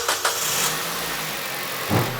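A car engine cranks and catches, then settles into a low, steady idle close by, with a brief rise in revs near the end.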